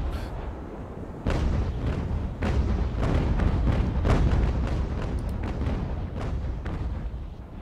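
Naval cannon fire from sailing warships in the video game Ultimate Admiral: Age of Sail, a dense, continuous run of booming shots rolling over each other at steady loudness.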